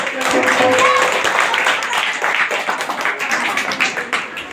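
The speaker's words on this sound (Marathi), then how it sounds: "टाळ्या वाजवा" Children clap together at a Zilla Parishad upper primary school student program, a dense burst of close, steady applause with voices mixed in throughout.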